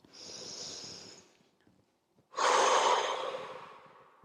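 Breathing during a vinyasa yoga practice: a soft inhale followed by a pause, then a louder, longer breath out, close to the microphone and alone.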